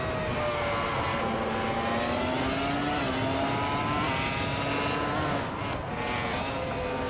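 A Renault R26 Formula One car in a racing game screams at high revs, loud and unbroken, its pitch rising through gears with brief dips, the engine alone without voices.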